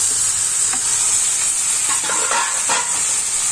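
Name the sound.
boiled chana dal and amaranth stems added to frying pan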